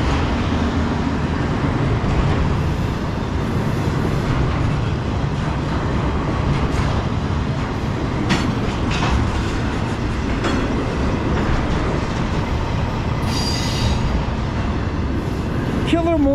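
A slow freight train led by an NS Dash 9-44CW locomotive rumbles steadily past with rhythmic clacking of wheels over the rails, a faint squeal near the end, and occasional voices in the background.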